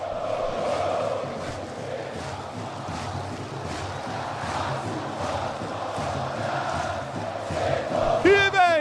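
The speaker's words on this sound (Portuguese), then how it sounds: "Canta a torcida do São Paulo no Morumbi" São Paulo fans sing in a loud, massed chant at Morumbi stadium during the São Paulo versus Santos Campeonato Paulista match, a dense roaring crowd sustained throughout, with a brief sharp whistle-like sweep near the end.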